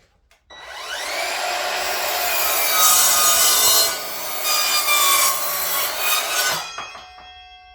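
An Evolution 18V cordless mitre saw spins up and cuts through 4-inch nails, giving a loud, sustained high-pitched metallic grinding whine of about six seconds that winds down at the end, with no talking.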